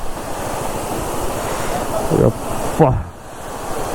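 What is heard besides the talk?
waterfall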